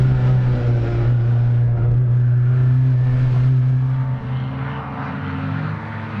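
A Ford Mustang race car on track gives a loud, sustained engine drone with a steady low note that holds, then dips briefly and picks up again.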